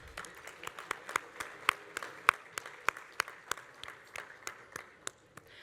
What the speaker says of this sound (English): So if we could all just take a moment and give them a round of applause.